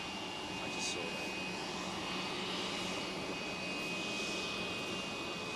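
Jet airliner with CFM56 engines at Manchester Airport, a steady broad engine roar holding throughout with a faint high whine, close and continuous, with no talking.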